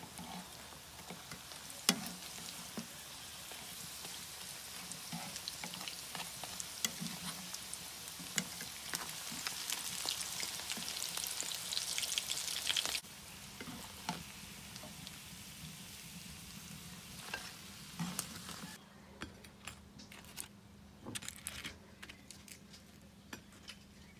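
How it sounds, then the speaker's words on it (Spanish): Tacos dorados filled with ground beef fry in a shallow pot of oil, giving a steady broadband sizzle with crackles and pops that runs throughout and drops to quieter, sparser crackling near the end. "Y los llevaré a freír en una cazuela con aceite."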